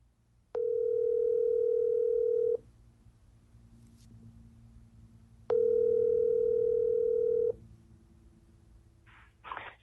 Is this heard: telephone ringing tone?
yes